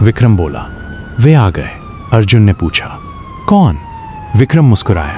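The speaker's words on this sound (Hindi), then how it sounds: "तभी बाहर सायरन की आवाज सुनाई देने लगी।" A police siren wails outside a warehouse, its long falling tone running continuously beneath a close voice telling a story in dramatic bursts.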